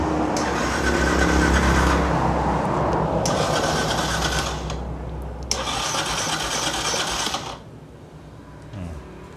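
A Yamaha YTX 125 motorcycle cranks on a cold start with the choke on, giving three loud, long starter bursts with a churning whir and short gaps between them; the engine never catches, and a faint clunk follows.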